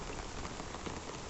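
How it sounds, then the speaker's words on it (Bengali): Heavy rain falls in Chuadanga, a dense, constant, close roar of drops hitting surfaces, with no voices. "চুয়াডাঙ্গাতে কি পরিমাণ বৃষ্টি হচ্ছে এটা তো নমুনা।"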